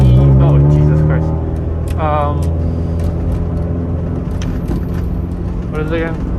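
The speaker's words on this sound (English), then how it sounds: "Yeah, Honda Civic EG. Not an EG6 or an EG4. It has the D16 motor in it." Honda Civic EG hatchback with a D16 engine, heard from inside as it drives, with a steady engine and road drone under excited voices talking and shouting throughout.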